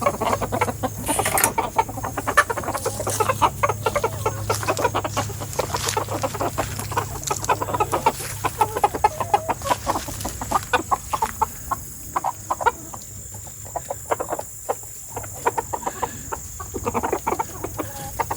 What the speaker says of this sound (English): So the Silkies enjoy the grass as much as the big chickens do